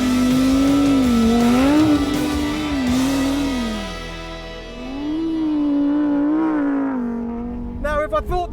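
Lamborghini Huracán Sterrato V10 supercar driving off-road on a desert track, its engine droning steadily and rising and falling in pitch as it accelerates and eases off, loud and close, with a brief burst of rougher noise at the end.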